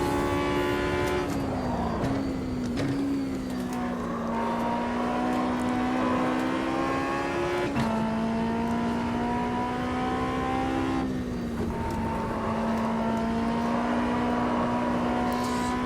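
A short-wheelbase race car in Automobilista 2 screams close and loud at high revs, its steady engine note dropping sharply at each gear change and climbing again, with no talk over it.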